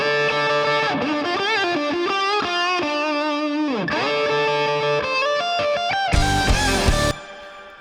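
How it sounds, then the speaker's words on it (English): A distorted electric guitar solo with added reverb plays loud and alone, with bending, sliding melodic lines and sustained notes, ending in a bright burst before the sound drops away. "I wanted to turn up the amount of reverb on this guitar solo"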